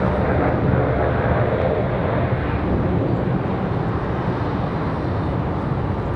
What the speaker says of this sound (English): Spirit Airlines headed out again off to Newark.